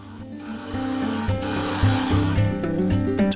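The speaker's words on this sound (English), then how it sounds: "Whilst I had the drum sander set up, I used it to flatten and level the cast blank." A drum sander flattens and levels the face of a cast epoxy resin blank with a close, coarse rubbing rasp and a low rumbling hum that rise and fall slightly over a few seconds.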